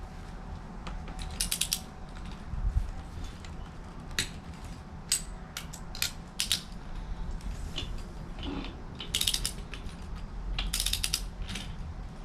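A torque wrench is used as a ratchet to tighten bolts during an engine build, giving quick runs of crisp, close clicking. The bursts come repeatedly over a low background hum.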